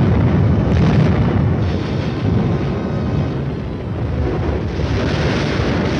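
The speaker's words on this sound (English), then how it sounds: "A platoon leader calls for artillery fire on an enemy strong point which stands in his way" An artillery barrage firing on an enemy strong point, a loud, dense, continuous rumble of overlapping booms and blasts that never lets up.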